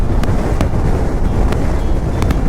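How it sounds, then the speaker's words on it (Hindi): Strong wind roars across the microphone during a motorcycle ride on a Himalayan 450 in Ladakh, a loud continuous buffeting rush with a few sharp gust bursts and no talk. "हवा तेज़ है"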